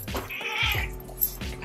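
A cat caterwauls at a rescue pit bull, drawn-out strained meows rising and falling in two or three close, fairly loud cries with no talk over them.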